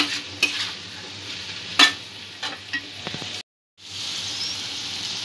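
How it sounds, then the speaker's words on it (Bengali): Chickpeas are sautéed with spices in a pan, the spoon scraping and clinking in irregular strokes over a gentle sizzle, followed by a short silent gap and then steady frying. "দু তিন মিনিট মশলাগুলো দিয়ে ছোলাটা একটু কষিয়ে নেব।"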